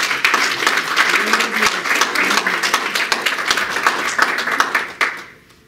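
A church congregation at a Spanish-language service claps loudly, with sharp individual claps over a thick crowd of applause that ends abruptly near the close, leaving a brief quiet tail.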